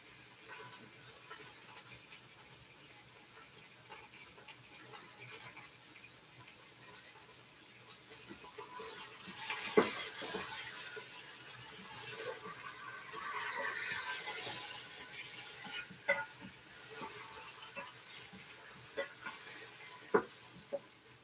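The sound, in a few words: lamb roast searing in an Instant Pot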